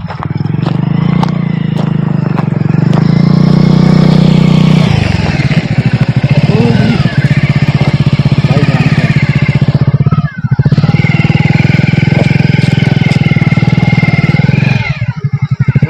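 A motorcycle engine rumbles loudly and continuously up close on a road at night, with the pitch shifting as it revs and idles, and brief dips in the roar.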